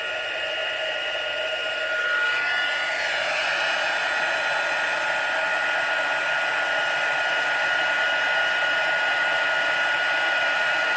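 Continuous close-up whoosh of a heat embossing tool blowing, a steady high whine and airy hiss that rises slightly in intensity and never stops.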